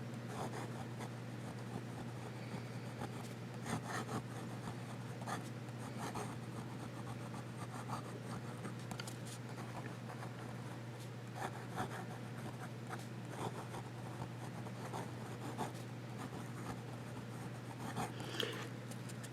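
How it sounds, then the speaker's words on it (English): A Fountain Pen Revolution Jaipur flex nib fountain pen scratches across paper in close, quiet, steady strokes, with a constant low hum underneath. "Now we're going to do some writing."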